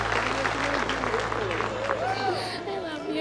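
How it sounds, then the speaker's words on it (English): Diners in a restaurant dining room applaud, steady clapping running throughout beneath a talking voice. "Big round of applause."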